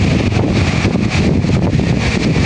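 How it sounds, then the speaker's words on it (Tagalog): Strong, gusty wind at the seashore roars against the microphone in a continuous loud rush, with no voices present. "dito po sa tabing dagat ay sobrang pong lakas ng hangin"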